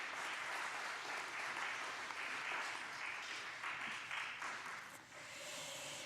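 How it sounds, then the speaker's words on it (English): Sustained applause fills a church worship service as the congregation claps for the children who led the winter solstice pageant, dense and steady before thinning slightly near the end. "Just another round of applause for all of them"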